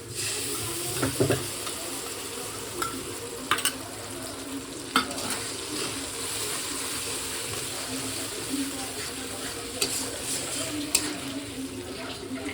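Red chili, tomato and soy sauces with cornflour going into a hot pan, giving a steady, moderate sizzle with repeated stirring scrapes and occasional clinks, close and continuous throughout.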